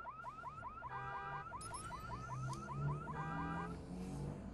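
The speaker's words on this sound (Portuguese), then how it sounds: "Vou tocar esse alarme aqui." A repeating electronic alarm in the Watch Dogs video game, rapid rising whoops that cycle steadily and loudly over a low ambient rumble, with no one talking.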